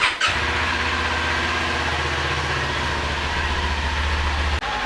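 Stock exhaust on a 2022 Kawasaki Ninja 400 starting up and running at a steady, low, throbbing idle close by, then cutting off abruptly near the end.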